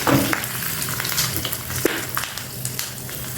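Asafoetida and curry leaves sizzle in hot oil as a dense, close, continuous crackle with a few sharper pops throughout, and no voices.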